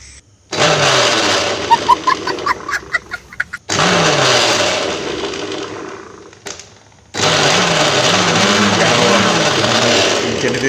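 A generator is pull-started three times: the engine catches with a rough, loud mechanical roar, sputters and cuts out, then catches again and runs steadily nearby with a droning, throbbing tone.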